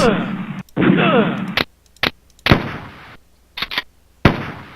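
Gunfire in the arcade shooting game Pea Shoot: several sharp, loud shots in an irregular rhythm with brief gaps between them, mixed with spoken commentary.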